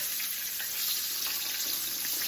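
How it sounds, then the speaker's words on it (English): Chicken fried steak fries steadily in a pan with a dense, continuous crackle and sizzle, close and fairly loud, with no voices. "Look how that's frying up close."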